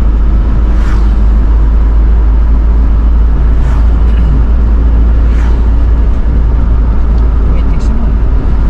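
A group of black automatic scooters touring together passes on a road in Sumba, giving a loud, steady engine and traffic rumble, close by, with brief higher whooshes as individual scooters go past.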